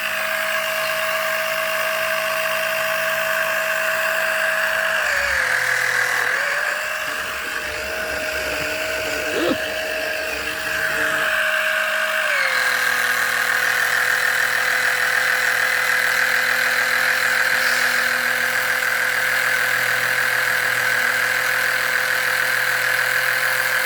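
A small battery-powered pump runs steadily, drawing fluid out of a bottle during work on an Audi A2 with a gear fault, giving a constant whine with a brief change in pitch and load partway through.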